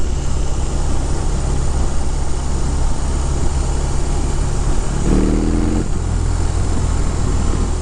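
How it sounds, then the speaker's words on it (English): A 2022 BMW R18 1800cc cruiser motorcycle with factory exhaust idles steadily with a low, even rumble, and a brief rising tone cuts in near the end. "The engine has an excellent note, even with the exhaust that's on it right now from the factory."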